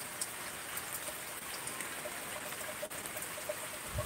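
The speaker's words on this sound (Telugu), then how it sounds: "ఎవరో పెట్టినట్టుగానే వర్షం ఎక్కువ అవుతుంది" Rain falls steadily outdoors, a soft even hiss of drops with faint splashes and occasional small ticks, fairly distant and quiet with no voices.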